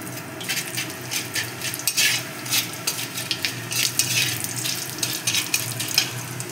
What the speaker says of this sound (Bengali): এবার এর মধ্যে আমি একটু জিরে ফোড়ন দিয়ে দেবো।